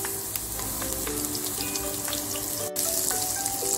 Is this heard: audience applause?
no